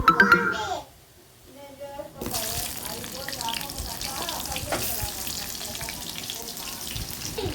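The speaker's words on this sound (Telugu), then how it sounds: "ఆయిల్ తిరగమాత ఇందులో తెల్లబాయి ఉల్లిపాయలు అంతా బాగా వేయించుకున్న తర్వాత పప్పులోకి వేసేసుకున్నాను" Hot oil tempering with fried onions is poured into cooked dal, letting out a burst of sizzling and bubbling that settles into a steady hiss, with speech in the background.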